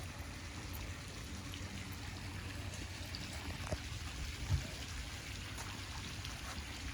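A backyard pool waterfall runs steadily, a continuous low wash of falling water that stays even and moderately faint throughout, with one small splash-like bump near the end.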